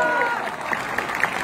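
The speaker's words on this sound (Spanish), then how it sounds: "El aplauso, por favor." Applause from a crowd at an awards tribute to a music group in San Pedro, Coahuila, greeting the band's bass player, moderate and fairly distant clapping with a few sharper claps standing out.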